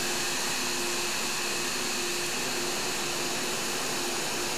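A thermo cutter slices through a 1-inch-wide rubber strip fed at about 30 feet per minute, giving off a steady, even whooshing hiss with a faint low hum underneath, continuous and unchanging throughout.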